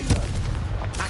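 Confringo blasting spell fired in Hogwarts Legacy: a single dull, booming burst near the start, followed by a lingering low rumble with a faint second pop near the end, heard alone.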